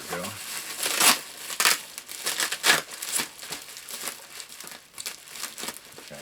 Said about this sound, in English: nothing else in the box, just the bubble wrap here